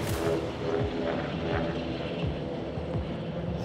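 Military helicopter on the ground nearby in Afghanistan, its engine and rotor giving a loud, continuous droning roar with a faint rhythmic rotor beat throughout, no voices.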